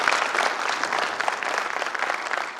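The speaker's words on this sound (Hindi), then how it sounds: "उनके सम्मान में भी जरा ताली बजाइए।" An audience claps steadily at an electro-homeopathy awareness event, a dense, sustained round of applause from a crowd, fairly close and even in loudness throughout.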